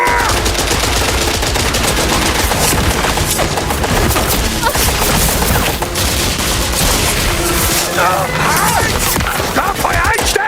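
Dense, loud gunfire from an Indiana Jones video game: rapid overlapping shots and machine-gun bursts roar without pause, with voices shouting beneath the barrage.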